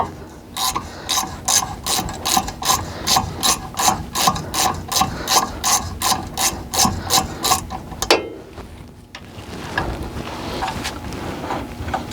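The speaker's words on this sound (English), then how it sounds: "you're going to need your ratchet and your Allen. And you're going to take this bolt off" A hand ratchet clicks steadily in loud, close strokes while loosening a front brake caliper bolt on a Chevy C10 truck, then stops, leaving faint background noise and wind.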